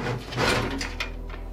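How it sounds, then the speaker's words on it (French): Side panel being slid off a PC case, with a sliding scrape and a few light clicks and knocks close up, heard alone without talk. "Donc je vais enlever la porte latérale gauche."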